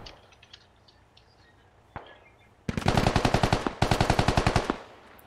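Two sustained bursts of rapid machine gun fire in the tactical shooter SquadOps, loud and close, each a fast rhythmic string of shots, preceded by a single distant crack and faint background clatter, with no talking.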